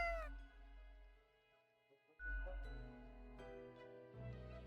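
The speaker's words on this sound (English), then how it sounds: "Your cat?" A cat in the video game Death and Taxes lets out several drawn-out, tonal meows, clear and close, separated by brief pauses with faint low hum beneath.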